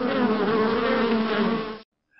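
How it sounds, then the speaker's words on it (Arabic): A bee buzzing steadily and loudly up close, a continuous droning hum for almost two seconds before cutting off into silence. "هذه نحلة."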